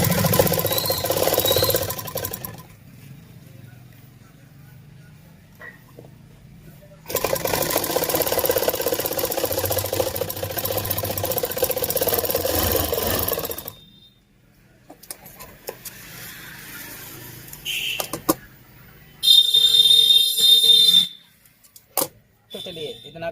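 A sewing machine stitches elastic into a trouser waistband, running in loud bursts of whirring with quieter gaps of handling between them.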